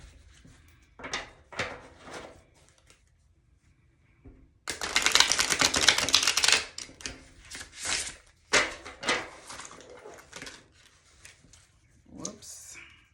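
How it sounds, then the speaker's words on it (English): A tarot deck, larger than playing cards, is shuffled by hand in soft, irregular bursts of papery riffling and rubbing, with a louder sustained stretch in the middle, close and quiet. "I gotta do a really good job of shuffling"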